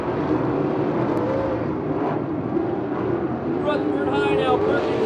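360/410 sprint cars racing at Victorville Raceway Park, a continuous roar of engines heard from a distance under a race announcer's steady commentary.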